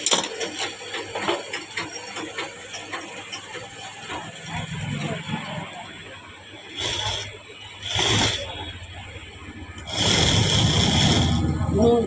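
Sewing machine stitching a blouse sleeve, running in short, loud whirring bursts separated by pauses, with quieter mechanical ticking between them.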